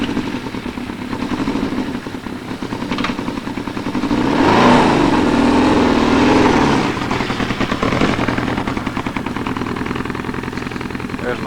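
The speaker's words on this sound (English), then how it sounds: "There's my daddy on his Suzuki motorcycle." A Suzuki motorcycle ridden by an 82-year-old man rumbles along nearby, its engine swelling louder as it passes through the middle and then settling back to a steady drone.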